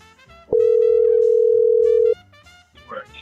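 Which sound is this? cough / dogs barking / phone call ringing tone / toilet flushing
phone call ringing tone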